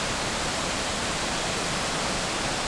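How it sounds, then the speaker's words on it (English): Roar of a large waterfall in Iceland's Westfjords, a steady broadband rush of falling water heard up close and loud, with no voices over it. "This is the most impressive waterfall I've seen in my life."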